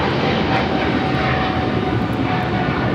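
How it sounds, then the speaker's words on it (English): A Cathay Pacific Boeing 777-300ER jet takes off from Los Angeles airport, its engines making a loud, steady roar that fills the whole stretch without a break. "This is Cathay Pacific 885 taking off to Hong Kong on the 777-300ER."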